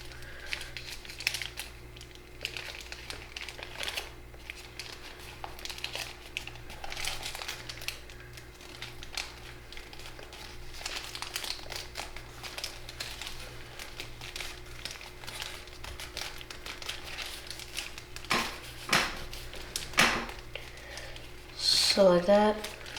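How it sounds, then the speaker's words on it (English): Origami paper is folded into a fiddler crab with an outside reverse fold: soft crinkles and paper rustles close by over a low steady hum, growing busier near the end, with occasional talk. "it's just an outside reverse fold from there to the center."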